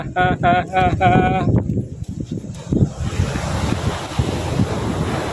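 Gusting wind roars against the microphone beside crashing surf, after a brief burst of someone singing at the start.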